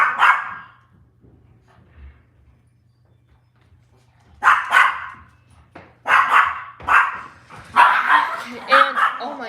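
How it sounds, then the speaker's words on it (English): Dogs bark in several loud, close bursts after a quiet stretch, with a low steady hum underneath and the barks clustering more densely toward the end. "As soon as Izzy starts barking, Cody's like attacks her"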